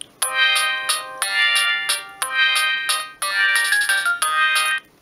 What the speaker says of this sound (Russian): Мелодия звонка